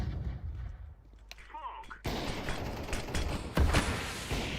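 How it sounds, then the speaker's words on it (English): A flashbang grenade goes off in a Counter-Strike 2 match at the IEM Cologne Major: a quiet mechanical clink and rattle, then a sudden loud broadband burst, with a second sharp hit shortly after. "Throwing a flashbang."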